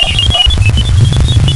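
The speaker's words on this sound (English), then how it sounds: "Then comes some stranger computer beeping like sounds." Galileo spacecraft recording from Jupiter's magnetosphere. Short, high, computer-like beeps chirp in quick irregular succession over a low rumbling hum.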